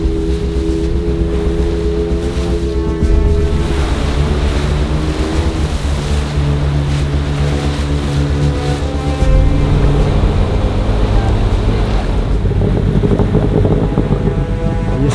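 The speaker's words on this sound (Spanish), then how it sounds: "hoy es un día bastante normal para el río, que no está nada bravo, pero en cambio fijaos cómo está" A fast-flowing river in Cofán territory at Sinangoe, Ecuador, rushes steadily and loudly in a constant roar of churning water, with a low droning motor tone running underneath throughout.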